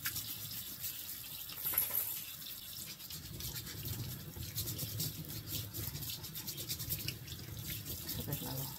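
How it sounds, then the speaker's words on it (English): A potato brush scrubs a raw, unpeeled potato with rough, irregular bristle strokes, loud and close, alongside faint trickling water. "I'm just going to scrub this potato up"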